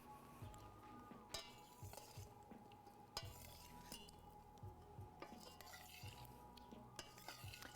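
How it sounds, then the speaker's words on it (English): A spoon stirs a pot of garlic chicken and potatoes, making soft scrapes and occasional sharp clinks against the pot over a faint background sizzle, quiet and close. "We'll stir this up"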